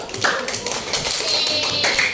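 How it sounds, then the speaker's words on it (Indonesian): Children in a fifth-grade class clap their hands together in a dense, scattered round of applause lasting a couple of seconds. "Tepuk tangan buat kelompok 1"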